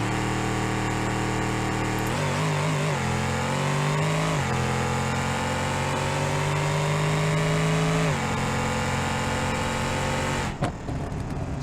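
A race car engine in BeamNG.Drive, the General Hawk Roadkill project, held near 6,500 rpm against the rev limiter, a loud steady high-revving drone with small pitch steps that cuts out abruptly at the end.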